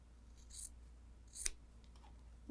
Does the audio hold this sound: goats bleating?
no